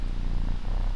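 A cat purrs in Minecraft with the Nyan Cat mod, a short, close, low rumbling purr that stays steady and loud with no talking over it.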